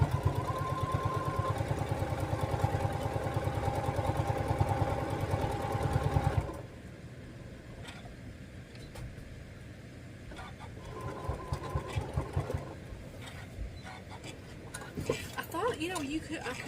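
A domestic sewing machine stitching a quilted table runner, running in a steady fast mechanical whir for about six seconds, then stopping, with a few short bursts of stitching and handling noises later.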